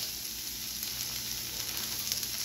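Peppers and onions sizzle on a hot Steelmade griddle with a steady, dense hiss and scattered small pops and crackles, close and continuous throughout.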